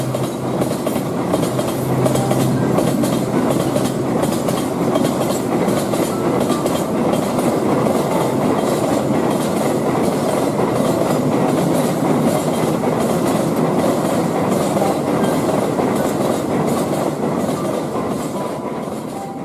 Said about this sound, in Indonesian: Dalam setiap rangkaian kereta ekonomi jarak jauh